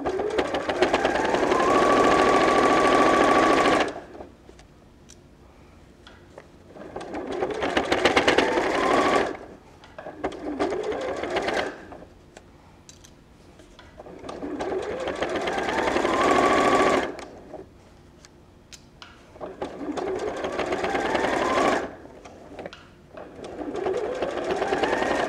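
A sewing machine stitches the seams of an overnight bag in four long, steady whirring runs with quiet pauses between them.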